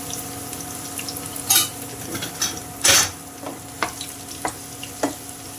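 Dried red chillies and crushed unpeeled garlic frying in hot oil for Payyoli chicken fry, a steady low sizzle under scattered sharp stirring clinks and scrapes of a spoon against the pan, close and moderately loud, no talk.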